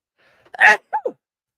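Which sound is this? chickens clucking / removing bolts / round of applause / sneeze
sneeze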